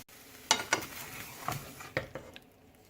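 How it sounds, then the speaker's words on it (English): Faint sizzling of ham in a pan under scattered clinks and scrapes of a utensil moving it around, with no talking. "That's the sound of sizzling."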